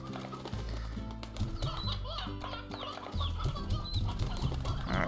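Chickens cluck and chatter in the Slime Rancher video game, repeated short game-animal calls over a busy backdrop of background music and ambient effects, with no talking.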